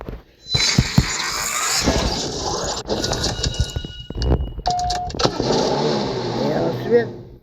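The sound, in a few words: car engine in racing video game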